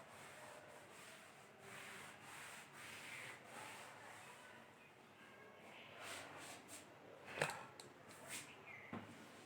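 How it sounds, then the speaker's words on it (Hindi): Chalk or eraser rubbing across a classroom board during a lecture on crystal X-ray diffraction, a soft continuous scrubbing texture with a few sharper scrapes near the end, faint and close, with no talking. "अब इसमें पर्टिकुलर ये मैं यहां से रब कर देती हूँ एक बार"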